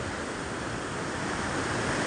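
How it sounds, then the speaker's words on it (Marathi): The Mandakini river rushes past at Kedarnath, a dense, unbroken roar of fast mountain water filling the whole clip with steady broadband noise and no voices. "सॉरी मंदाकिनी नदी"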